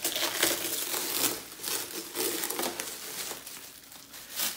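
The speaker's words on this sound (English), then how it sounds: "And this looks like regular Saran wrap." Thin plastic wrap, like cling film, crinkles and crackles in bursts as it is pulled off a new Traxxas 4-Tec 3.0 RC car during unboxing, close to the microphone, with no talking.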